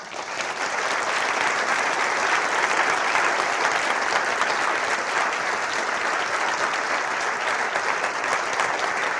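Sustained, loud applause from a conference audience at the LibrePlanet 2016 free software keynote, a dense continuous roar of many hands clapping with no pauses.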